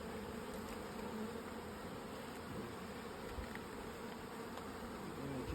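Buckfast honey bees buzz around a hive in a garden, a steady, dense hum of many bees close by that holds evenly throughout.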